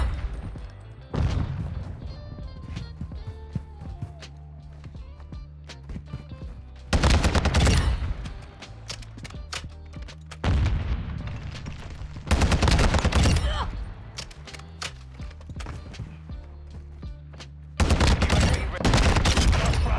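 Bursts of gunfire from a TAQ-V battle rifle in Modern Warfare 2, loud, sharp rapid volleys in several separate strings with quieter game sounds between, no talk over them.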